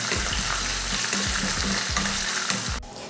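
Curry leaves and crushed garlic cloves sizzle loudly in a hot pan of oil while a spoon stirs and scrapes through them, with repeated clinks of the spoon, until the frying cuts out near the end.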